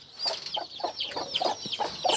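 A hen, likely an Aseel breed kept with a newly hatched chick, clucks in a run of short, repeated calls over about two seconds, fairly close and alone, with faint bird calls overhead.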